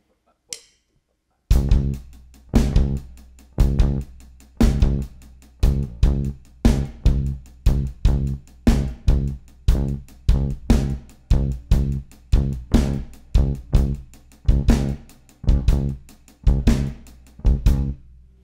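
A quintuplet groove with two attacks per quintuplet grouping repeats loudly and steadily on a full band with drums after a short pause at the start, each cycle clearly accented.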